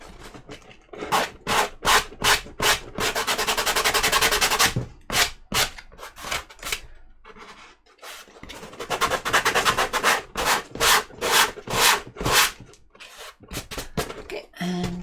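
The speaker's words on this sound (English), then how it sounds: "The sandpaper." Sandpaper rubs hard along an armour piece seam in rapid rhythmic strokes, bursts of quick back-and-forth scratching broken by short pauses, loud and close.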